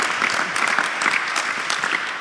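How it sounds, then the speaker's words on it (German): Audience at a panel discussion applauding a guest, a steady, close wash of many hands clapping that holds at an even level throughout. "Ist Ihr Applaus."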